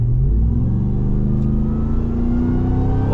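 A 2021 Ram 1500 TRX truck with a supercharged 6.2-liter V8 accelerating hard, heard from inside the cab as a loud, deep engine roar with rising pitch through the whole stretch, no talking.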